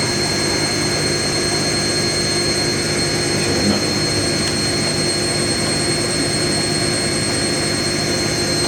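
An Indesit IWC71452 washing machine spins at 600 RPM on a whites programme, giving a loud, steady whine over a constant droning hum that holds unchanged from start to finish, with no voices.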